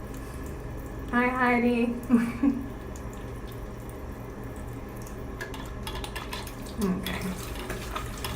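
Tap water runs steadily into a sink while a facial cleanser is rinsed off, a continuous splashing wash with a voice briefly talking over it near the start.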